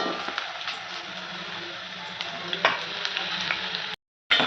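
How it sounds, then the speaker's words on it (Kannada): Onions for homemade Maggi fry in a pan with mustard seeds and curry leaves, a steady close sizzle with the odd stir and scrape. The sizzle cuts out briefly near the end, then resumes. "ಆನಿಯನ್ನು ಬ್ರೌನ್ ಕಲರ್ ಆಗೋ ಥರ ಈ ಥರ ಮಾಡಬೇಕು"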